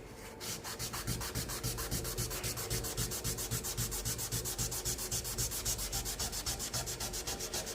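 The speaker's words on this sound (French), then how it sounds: "entre le bois et l'acier, ça va être surtout du ponçage" Sanding a knife handle where wooden scales meet steel: a steady, loud abrasive rubbing stroke repeated in quick even rhythm, continuous and close, with no voices.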